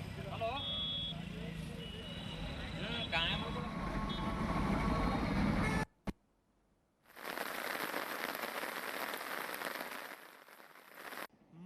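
Heavy rain pours onto a flooded road in Bidar, a dense steady roar that drops out briefly and then resumes, with a voice speaking over the first part.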